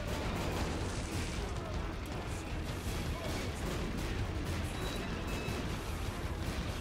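Bomb blasts from The Binding of Isaac: Repentance gameplay, a dense, continuous rumble of overlapping explosions with no clear gaps, heavy low-end boom throughout.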